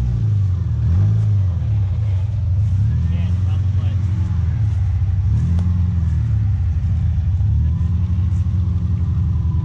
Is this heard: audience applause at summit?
no